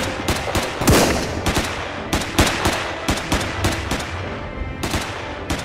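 Gunfire from the video game Cactus Cowboy - Plants At War: rapid bursts of loud, sharp shots in uneven clusters, some fast automatic strings and single cracks, close and dominant with no talking.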